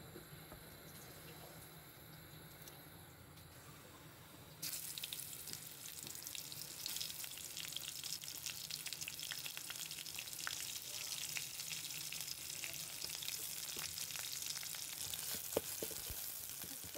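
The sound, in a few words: frying vegetables in a pan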